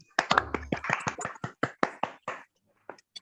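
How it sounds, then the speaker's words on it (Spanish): Scattered clapping comes through video call microphones at the close of an online thesis defense: a handful of sharp, separate claps at an irregular pace, thinning out and then stopping, with a couple of faint late claps. "Prendan los micrófonos para aplaudir."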